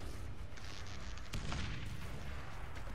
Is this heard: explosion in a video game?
yes